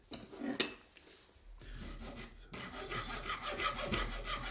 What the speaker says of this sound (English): you'll need to file all the burrs off it, otherwise it won't screw in properly